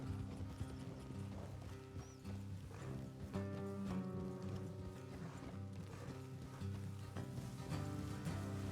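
Horses ridden along a road in Red Dead Redemption 2, hooves clip-clopping steadily under game music and ambience, with a faint whinny and jingling tack.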